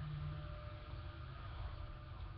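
A vacuum cleaner runs steadily in the background of a kitchen, a constant broadband hum with a low drone and no breaks.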